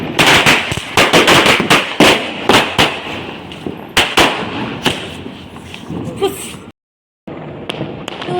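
Diwali firecrackers go off in quick succession: a rapid string of sharp, loud bangs and crackles, some overlapping, with voices in the background and a short silent gap near the end.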